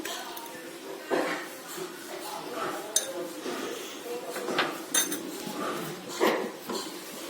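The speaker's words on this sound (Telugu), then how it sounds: "కొన్ని చిల్లీ ఫ్లేక్స్ వేసుకుంటూ కలుపుకుంటూ ఉండాలి." A spoon scrapes and clinks against a pan while white sauce pasta is stirred with chilli flakes, giving irregular metallic taps and clatters at moderate volume, with faint background voices.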